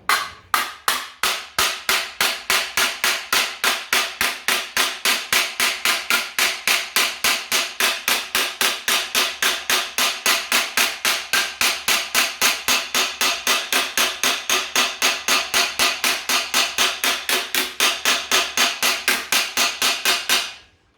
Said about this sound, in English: So we'll give it a few taps and we'll see if it starts to open up.